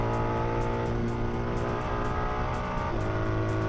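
Onboard a race car flat out on the Nurburgring back straight, the engine holds a loud, steady high-pitched drone at full throttle, with rich layered harmonics and one brief shift in pitch partway through.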